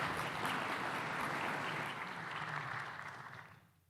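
A conference audience at an AFPIF infrastructure session applauds a speaker named Patrick; the dense, steady clapping holds at fair volume, then dies away quickly in the last half second.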